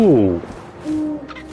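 A low, tonal owl hoot from What Remains of Edith Finch opens loud and close, then fades into a quieter wavering hoot against the game's ambient wind, with no talking.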